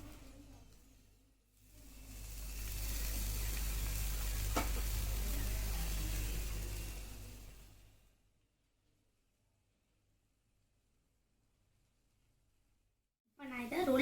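A Kerala dish sizzles loudly in a hot pan just after being flipped, a broad continuous frying hiss that swells for several seconds and then fades out to near silence.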